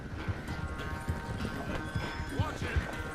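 Horse hooves clop in a steady, rhythmic gait in Red Dead Redemption 2, close and distinct, with a brief whinny partway through and voices talking over the hoofbeats.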